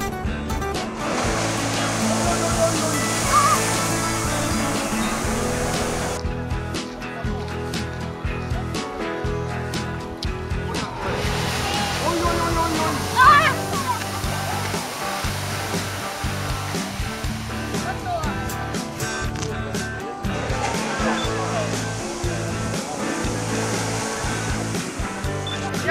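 Water from a geyser erupting in Iceland gushes and hisses as a steady broadband roar, with surges and brief lulls, while people talk quietly nearby.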